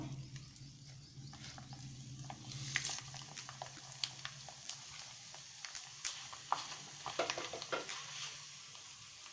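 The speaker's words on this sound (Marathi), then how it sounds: "आता मी थोडेसे तुम्हाला बटाट्याचा खीस देखील तळून दाखवणार आहे" Grated potato shreds fry in hot oil for sabudana chivda, giving a steady, soft sizzle with occasional stirring clicks and pops over a low background hum.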